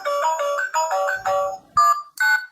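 A toy phone plays a bright electronic ringtone, a close, clear string of synthetic beeping notes that stops and restarts in short bursts.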